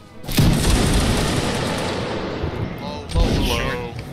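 A regiment's musket volley in a Napoleonic Wars battle game erupts as one loud rolling boom, echoes trailing off before a second heavy report, with voices faintly in the background.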